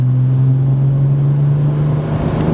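Steady deep exhaust drone from a BMW 135i running a Standback and Turboback exhaust at 10 psi boost, holding at lower RPM without sharp revs, loud and close throughout.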